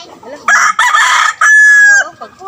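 Rooster crows loudly and close in a drawn-out, strained cock-a-doodle-doo, in three bursts with the last call held longest, against a quiet background.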